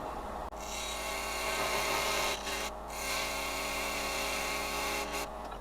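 A parting tool cuts into a wooden canteen flask blank spinning on a lathe, giving a steady, close rasping scrape that runs continuously with only brief dips as the tool pauses.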